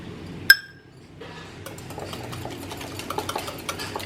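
Half a cup of thick yogurt beaten in a bowl. One bright clink opens it, then comes a steady run of quick, light tapping and scraping strokes, close and fairly quiet, with no voice.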